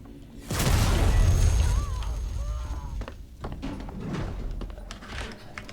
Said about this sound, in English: I have a flashbang.